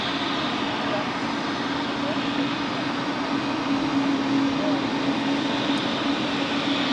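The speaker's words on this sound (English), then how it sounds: "we have a Swiss A220 arriving." Swiss Airbus A220 arriving at Zurich Airport, a steady broadband jet roar with a low hum, continuous and moderately loud at a distance, with no talk over it.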